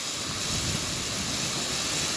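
Sprayed water runs steadily down onto mulch treated with mulch glue, a constant broadband wash that stays loud and unbroken throughout.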